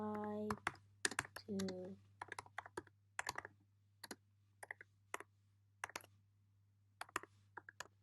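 Computer keyboard typing, with short bursts of crisp key clicks in irregular clusters, close and quiet over a low steady hum, with a voice speaking briefly at the start.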